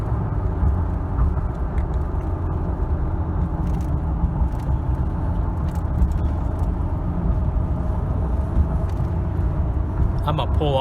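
A Toyota Tundra 5.7 engine running after warmup with a diesel-like clatter, heard from inside the cab as a loud steady low rumble throughout, with someone talking over it.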